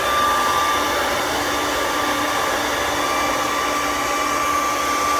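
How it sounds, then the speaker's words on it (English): Steady, loud roaring hiss of a torch blowing flame to dry a freshly thrown pottery bottle, constant and unbroken throughout with a faint tonal whine, no voices. "it will dry it with a torch"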